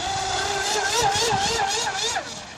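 A Hobbyking Hydrotek F1 self-righting RC boat runs at full throttle, its motor giving a loud, continuous high-pitched whine that wavers up and down in pitch as the boat turns.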